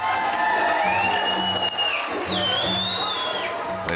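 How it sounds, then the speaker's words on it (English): A wedding crowd cheers and applauds, with whoops and high voices rising over steady clapping while music plays underneath. "The crowd seems pleased."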